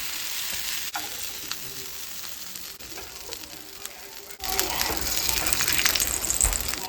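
Tomatillos, tomatoes, onion and garlic cloves toast in a hot pan for a homemade mole, a continuous bright sizzle with faint stirring scrapes that jumps noticeably louder partway through.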